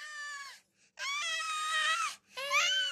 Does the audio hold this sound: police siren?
no